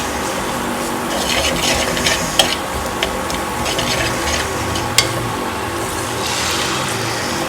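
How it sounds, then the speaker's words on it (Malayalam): Water is poured into a Kerala-style curry in a pan, giving a steady bubbling, sloshing wash with a few small clinks, close and moderately loud, with no voices. "ഇതിലേക്ക് നമുക്ക് കറിക്ക് ആവശ്യമായിട്ടുള്ള വെള്ളം ചേർത്ത് കൊടുക്കാം"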